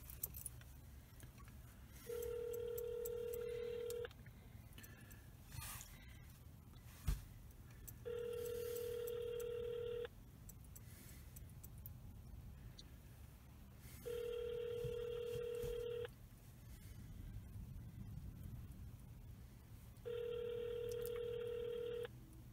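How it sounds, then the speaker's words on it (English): A telephone call rings out with four evenly spaced ring bursts, each lasting about two seconds and separated by pauses, heard faintly over low background noise with a brief tap partway through. "No, we're calling you, Jay."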